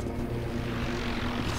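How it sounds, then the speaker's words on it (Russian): Helicopter in the video game Medal of Honor Warfighter, a steady droning rotor and engine hum holding a low, even pitch, fairly close and continuous without breaks. "Вертолет."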